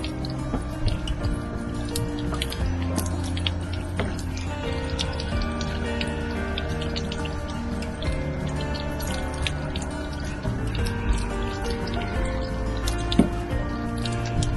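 Water drains from an RV holding tank during yearly maintenance, a steady, fairly soft trickle and splatter with scattered drips and gurgles running continuously throughout.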